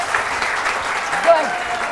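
Studio audience applause on a morning television show, a continuous bed of clapping with a voice briefly rising over it.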